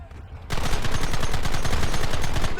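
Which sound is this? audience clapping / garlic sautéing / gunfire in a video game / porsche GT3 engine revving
gunfire in a video game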